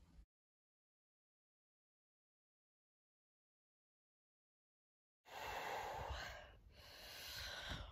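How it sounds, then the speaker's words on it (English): Heavy, rough breathing close to the microphone while hiking uphill on the Pacific Crest Trail between Cajon Pass and Wrightwood, after a long stretch of silence, each breath loud and effortful. "heavy breathing required today"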